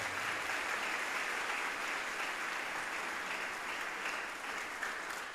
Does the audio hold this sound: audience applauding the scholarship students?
yes